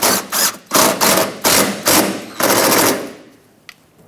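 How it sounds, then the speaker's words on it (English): An impact or power tool drives 8mm bolts back into the front ABS wheel speed sensor mount on a 2000-2005 Ford Excursion, with loud repeated rattling bursts separated by short pauses, close up and without talk. "Let's reinstall the bolts that hold it on."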